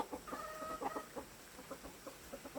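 Chickens cluck in soft, irregular bursts nearby, with a faint higher call briefly rising among the clucks; no talking.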